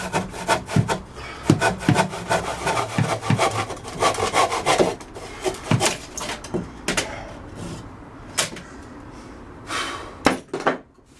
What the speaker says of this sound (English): I've got to cut off all these little tail ends of the rafters